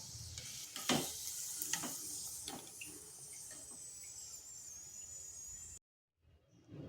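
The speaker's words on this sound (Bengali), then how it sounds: "তো এইভাবে আমি সবগুলো ভেজে নিচ্ছি" Pua pitha, jaggery rice cakes, sizzle and crackle in hot oil with occasional stirring clinks, a steady high-pitched frying hiss that cuts off abruptly near the end.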